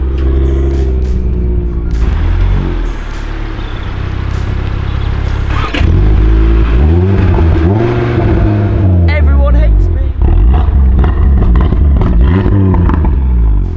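An Audi TT RS engine idles and revs in low, rumbling bursts as the car is eased into position beneath a basketball hoop, with people talking over it throughout.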